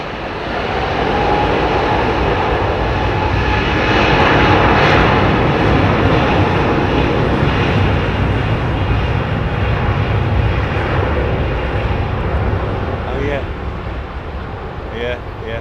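An Airbus Beluga XL taking off at Heathrow Airport, a loud continuous jet engine roar that swells and holds steady for about fifteen seconds, close and powerful.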